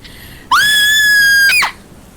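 A person screams loudly into a microphone for about one second, a single sustained high-pitched shriek close up that cuts off sharply, against faint background hiss.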